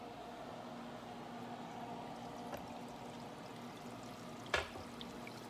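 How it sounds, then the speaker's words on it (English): Water pouring steadily from a fish tank filter like a small waterfall, a faint continuous splashing hiss close by, with a brief sharp knock partway through. "so you can see how that water should be coming down like a waterfall"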